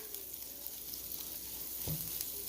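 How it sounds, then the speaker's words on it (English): Butter hits a very hot pan after the heat has been switched off, giving a soft, steady sizzle and faint crackle close by with one brief louder clatter near the end. "this pan is still very hot. I'm throwing in the last of my butter"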